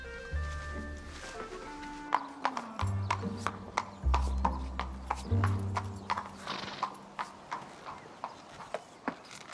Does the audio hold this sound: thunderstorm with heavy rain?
no